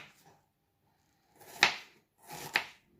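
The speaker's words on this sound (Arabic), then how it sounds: "أثرمهم باليد. أنا أقدر أسويهم بالمثرامة، بس لا، بالإيد أحسن" Large onions are chopped by hand with a knife on a board. Two distinct, firm chops fall about a second apart and are fairly quiet and close.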